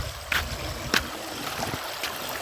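Water runs through a narrow field channel in a steady low gurgle, broken by a few sharp splashes or clicks that stand out close by.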